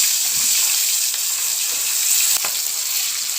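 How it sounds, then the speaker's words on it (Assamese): Fish frying in a pan, a steady, dense sizzle that stays even throughout with faint crackles and one brief louder pop near the middle, no voices present. "মাছ ফ্ৰাই কৰি আছোঁহি"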